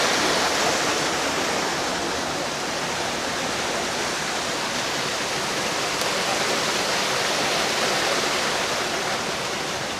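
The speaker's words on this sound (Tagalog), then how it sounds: "Yan, nagkaroon na siya ng falls." River waterfall formed where landslide boulders block the channel, a loud continuous rushing roar of falling water, steady and close throughout with no speech.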